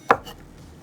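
A knife slices through a Roma tomato onto a cutting board in one sharp, close thunk with a faint follow-up tap, then quiet.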